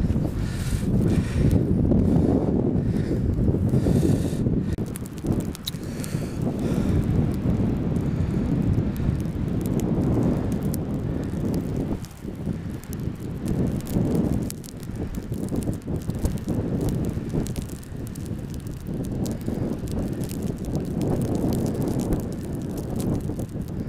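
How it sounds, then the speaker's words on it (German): Strong wind on a hilltop buffets the microphone in heavy, continuous low rumbling gusts that rise and fall. "da oben ist so windig"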